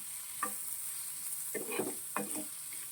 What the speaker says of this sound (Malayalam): നന്നായിട്ടൊന്ന് ഇത് പച്ച സ്മെല്ല് മാറുന്ന വരെ ഒന്ന് നമുക്ക് ഇളക്കി കൊടുക്കാം.